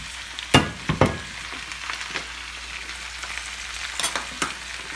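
Kale greens sautéing in olive oil in a skillet, a steady close sizzle broken by a few sharp scrapes and stirring knocks, with no voices.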